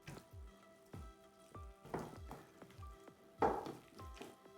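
Chicken legs being worked by hand into a masala marinade. Soft, wet squelches repeat about twice a second, close and quiet, with no voices.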